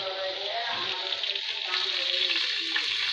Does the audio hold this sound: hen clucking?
no